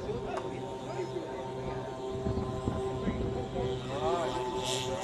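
A Douglas Dakota aircraft towing a Horsa glider takes off at an evening airfield display, its propeller engines droning steadily and loudly throughout with a faint shifting whine, while distant crowd chatter and commentary run underneath.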